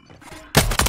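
Two loud broadband gunshot bursts, sniper rifle fire in the video game Warzone, crack out in quick succession after a quiet lead-in, the second following about a quarter second after the first.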